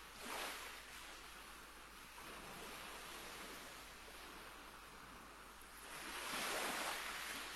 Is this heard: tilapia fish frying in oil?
no